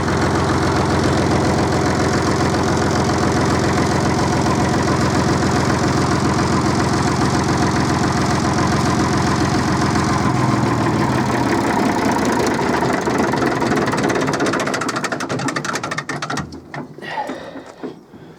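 An Aveling Barford GRV engine idles loudly and steadily, a dense rumbling drone that sputters and dies away near the end as it is shut down.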